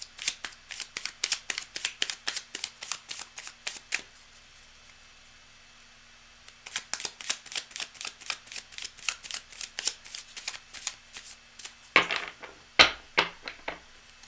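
A deck of cards is riffle-shuffled repeatedly in brisk bursts of rapid crisp flicks, pausing once for a few seconds before resuming, then ending with a few louder snaps, close and clear with no talk.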